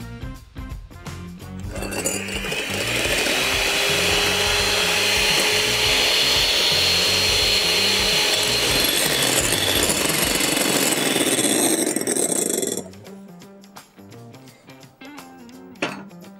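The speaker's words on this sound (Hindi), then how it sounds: "अब now what we will do is we will beat, सफ़ेदियों को हमेशा पहले बीट कर लेते हैं।" An electric beater whisks egg whites for a flourless cake, a loud steady whirring drone that runs for about ten seconds before cutting off, followed by faint kitchen clinks.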